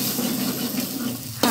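Spices stir-frying in a pan for an allergy-friendly home meal, a steady close hiss and sizzle with light scraping, and a brief louder burst near the end.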